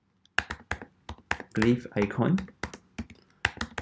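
Close, crisp keystrokes on a computer keyboard tap out in uneven bursts, with a voice briefly speaking over the middle of the typing.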